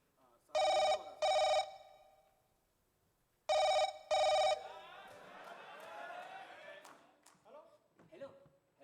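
A telephone rings in a Hindi comedy sketch: two bright double-ring bursts, a pause, then two more, followed by a low jumble of voices and background noise.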